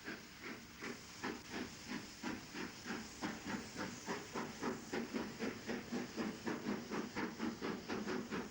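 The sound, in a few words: steam locomotive entering station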